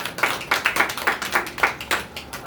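A church congregation claps in a quick, uneven rhythm, with many hands landing in rapid bursts that sound close and lively. No voices are heard.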